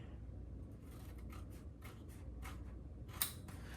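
Scissors snip through peel and stick wallpaper in a series of faint, crisp cuts, with one sharper snip near the end over a quiet room.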